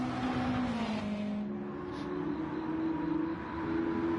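GT3 race car engines howl steadily in a sim racing game at Spa-Francorchamps, a Toyota among them, a continuous droning roar holding near and loud throughout with slight pitch shifts.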